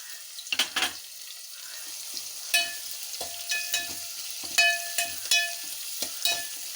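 Chopped onions fry in a pan with a light sizzle, punctuated by intermittent spatula scrapes and clicks against the pan at an uneven pace.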